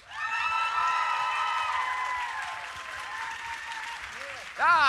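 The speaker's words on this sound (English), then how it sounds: "So let's give a round of applause for Nicholas Briggs." Applause and cheering from a convention audience at a Doctor Who Q&A panel, a steady wash of clapping mixed with voices and whoops, with a tonal melody running through the first half and a louder burst of sound near the end.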